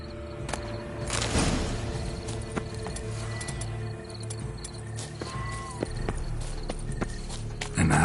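Horse hooves clip-clop in The Witcher game on PS5: steady, moderate hoof strikes over a constant insect-like ambient bed, fairly close, with a brief rustling swell early on.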